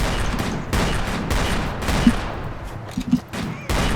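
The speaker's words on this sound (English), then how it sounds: "So we must shoot them all." Video game gunfire plays as loud, close bursts of rapid shots, broken by a few brief pauses and followed by dense, overlapping volleys with no talking.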